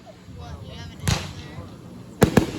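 Fireworks bursting nearby: one sharp crack, then after a pause two more loud pops in quick succession over a faint background hum.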